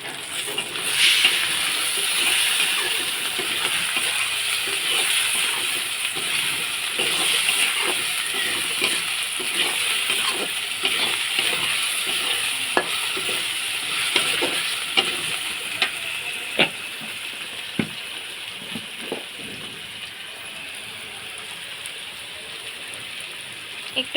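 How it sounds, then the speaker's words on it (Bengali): Potatoes and onions fry in a pan until browned, a steady crackling sizzle that runs throughout with scattered sharp pops and ticks of spatula contact. "আলু আর পেঁয়াজগুলো লাল লাল করে ভেজে নেব।"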